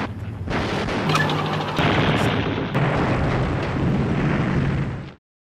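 Heavy artillery barrage in wartime combat, a dense sustained roar of overlapping explosions and bursts lasting about five seconds, loud and continuous before cutting off abruptly.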